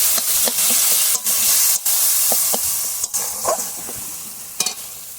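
Spice paste sautéing in a pan, a loud continuous sizzle broken by repeated sharp scrapes and clacks of a stirring spoon, close up with no talking.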